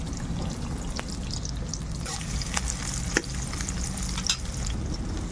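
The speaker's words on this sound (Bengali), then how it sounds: "এবার পেঁয়াজটাকে ভালোভাবে ভেজে নেব আমি" Onion and chopped garlic fry in a pan for chilli chicken, giving a continuous close sizzle broken by scattered stirring clicks and spatula scrapes, with no voices.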